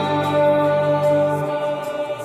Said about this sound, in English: I am using a chorale setting on a Strymon Big Sky